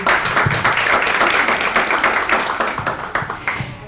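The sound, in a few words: audience applause for a speaker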